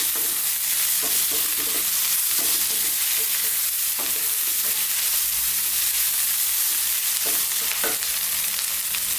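Fresh chili fries with garlic and ginger in a pan for a vegan fried potato curry (aloo fry masala), giving a steady close sizzle broken by scattered stirring clicks and scrapes, with no talking.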